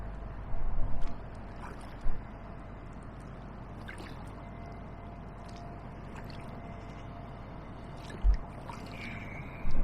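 A canoe is paddled downstream on the River Medway between East Farleigh and Allington Lock, with soft, scattered paddle splashes and dips over a steady low rumble of water and motor. No voices are heard.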